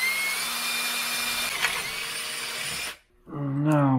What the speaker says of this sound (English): So let's find a slightly bigger drill bit.